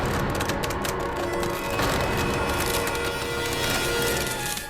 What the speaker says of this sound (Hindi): ये दरवाजा चबा रही है